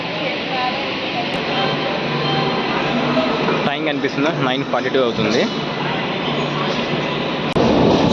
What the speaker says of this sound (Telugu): కదిలింది మన ట్రైన్.